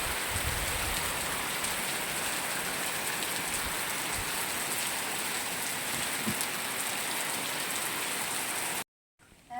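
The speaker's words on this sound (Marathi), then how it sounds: "जोरात पाऊस चालू झाला" Heavy rain pours down steadily and loudly in a continuous dense hiss, with no voices, until it cuts off abruptly near the end.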